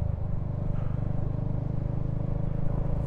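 A Royal Enfield Hunter 350 motorcycle pulls away in first gear at low revs, its single-cylinder engine thudding in a steady, fairly quiet pulse with no talk.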